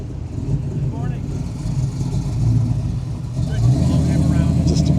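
The engine of a 1967 Chevy Nova II SS with a 572 runs at a classic car show, a low rumble that rises slightly in the second half beneath nearby talking.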